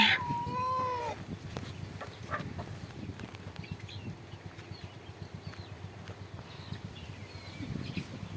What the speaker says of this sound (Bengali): ও সবসময়ই মোরগের সাপোর্টে ডিম পারে